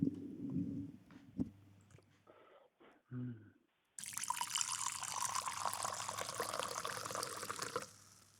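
Merlot wine poured from a bottle, a sustained bright splashing gurgle that starts abruptly after some quiet handling noises and runs steadily for several seconds, close and fairly loud.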